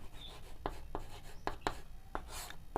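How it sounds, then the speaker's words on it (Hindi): Pen strokes scratch across paper while a definition is handwritten, coming as short separate scrapes spaced about half a second apart, close and quiet with no talking. "तो सबसे पहले इसका हम परिभाषा लिखते हैं"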